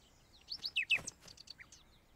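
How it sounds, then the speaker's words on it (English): A few quick, high bird chirps and tweets from a cartoon garden where seeds are being planted, moderately close and with no talking. "Hi, Birdie. Shoo! Go away"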